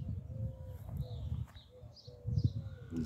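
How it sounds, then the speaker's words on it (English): Doves coo in the morning at a park in Alpine, Texas, giving a few low, soft hooting calls in two bursts over a quiet outdoor background. "Those doves are just really getting with it this morning."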